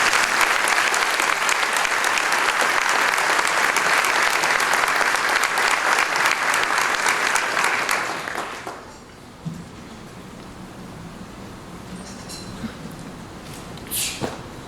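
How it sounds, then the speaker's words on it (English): An audience at an indoor award ceremony claps in a dense, loud round of applause for about eight seconds, then it fades quickly into a quiet room with a few stray sounds. "Let's give them a great round of applause."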